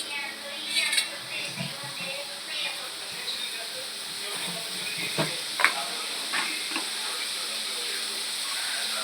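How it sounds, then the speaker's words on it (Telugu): Broccoli masala curry being stirred in a pan after simmering, with a soft steady sizzle and scattered scraping and clinking of a spoon against the pan, close up with no talk. "మరొకసారి కలుపుకుందాం"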